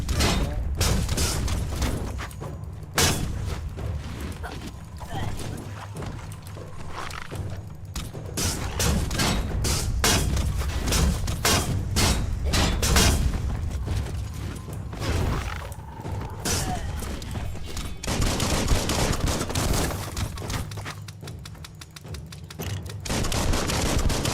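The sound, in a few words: bomb lobber enemy attacking in Biomutant video game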